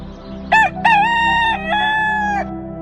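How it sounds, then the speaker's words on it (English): A rooster crows loudly nearby, a long rising and falling call in several strained segments over a steady low background hum. "the rooster let out its majestic crowning sound, signaling the beginning of a new day"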